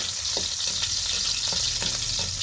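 Garlic and onion frying in a pan, a loud continuous sizzle with stirring scrapes and occasional clatter, close up and steady throughout.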